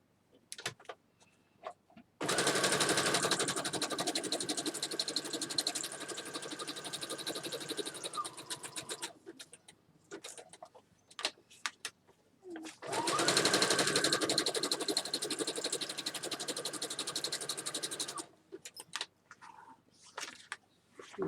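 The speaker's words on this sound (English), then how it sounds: "I'm going to sew all the way around because it's the one that has the pocket" A sewing machine stitches around the edge of a journal made from a hanging file folder in two long, steady runs of several seconds each, with clicks and paper rustling between and after them.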